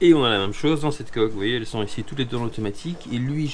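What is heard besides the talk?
No distinct noise like a dog, phone or traffic.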